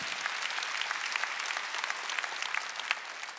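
A church congregation claps together during a Sunday worship service, with steady dense applause from many hands and no talk over it.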